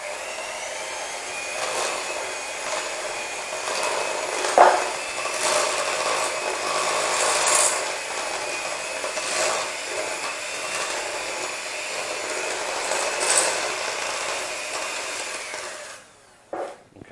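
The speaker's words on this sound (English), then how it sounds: "So first of all, we just do a little whisk." A whisk rubs and scrapes steadily through shortbread dry ingredients in a bowl, a continuous close scratchy swishing that lasts many seconds with small rhythmic swells, alone without talk.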